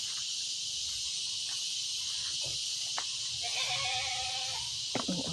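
A goat gives a short, wavering bleat near the end, heard over a constant high insect-like hiss and faint rustling in an outdoor setting.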